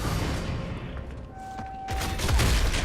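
Retro Lancer rifle fire at close range in the Gears of War 3 beta on the Trenches map, rapid loud gunshots and thuds in a dense battle mix, with the firing growing heavier toward the end.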